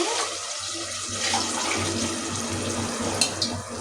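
Water is poured from a glass onto rice in a pot for chicken biryani, a steady close splashing gush that runs for several seconds with a few small clinks near the end.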